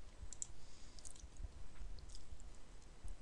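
Soft, close computer mouse clicks, a few sharp ticks spaced irregularly over a quiet background while spreadsheet cells are selected.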